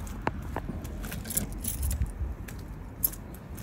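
Car keys jangle in short metallic bursts against a steady low rumble, with a few sharper clinks standing out near the start and toward the end.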